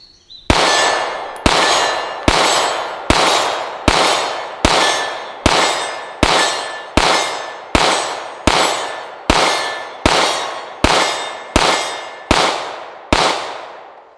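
Sixteen evenly spaced pistol shots from a CZ P-10C Ported, each a sharp crack with a ringing metallic clang off steel targets, firing at a steady rhythm of roughly one per second, loud and close with no talking.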